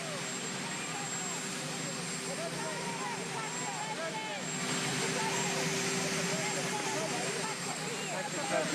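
Marine One, the presidential helicopter, runs as a steady loud engine and rotor roar throughout, swelling slightly louder in the second half, with voices talking beneath it.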